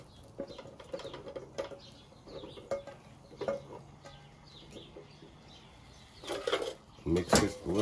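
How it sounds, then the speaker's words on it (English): Baby potatoes tumble into a warming pan for soy-braised Korean algamja jorim, giving a short burst of clattering and rattling near the end after quieter kitchen clinks and bumps. "I'm gonna put in the baby potatoes to braise it up"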